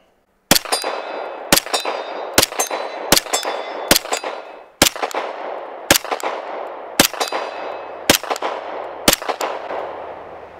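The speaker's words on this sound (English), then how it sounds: "Let's do like 5 shots and then quickly transition to the M17" Sharp, loud Sig P320 pistol shots with 115 grain ammunition, ten evenly spaced reports roughly one second apart, each with a short ringing tail, fired close by with no talking.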